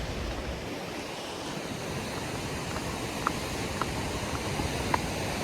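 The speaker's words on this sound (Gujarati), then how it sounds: "જુઓ આ પાણી વોટરફોલથી આવે છે," Water rushes down from a waterfall below a dam after heavy rain, a dense, steady roar close by that fills the whole stretch, with a few faint clicks on top.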